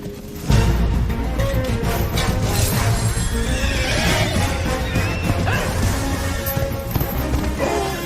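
A horse from the DreamWorks animated film Spirit whinnies loudly after a sudden crash-like onset, with a dramatic film soundtrack and effects layered under and around it.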